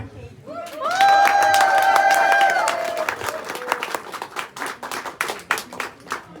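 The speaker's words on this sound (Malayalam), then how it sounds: "കേക്ക് കട്ട് ചെയ്യാൻ പോവാണ്, എല്ലാവരും ഒന്ന് കൈയടിച്ചേ." Guests at a wedding party clap together before the cake is cut, a dense wash of applause that builds and carries on for several seconds, mixed with tonal voices or music at the start.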